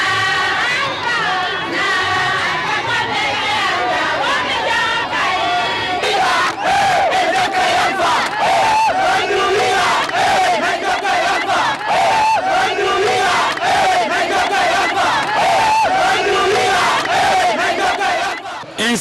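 A large crowd in Télimélé roars and cheers continuously as the president of the Republic arrives, a loud festive wall of shouting voices with rhythmic pulses throughout.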